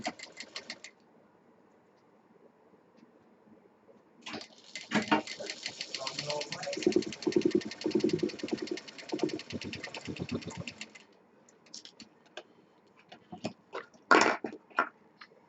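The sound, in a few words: sewing machine stitching drawstring strip of potli bag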